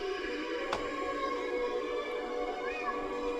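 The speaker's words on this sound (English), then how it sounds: "a distressed cat meowing" A tinny recorded soundtrack from a Lemax Madame Estella's Seance Services figure plays a distressed cat meowing over a steady eerie spooky drone, faint and continuous with a brief click near the start.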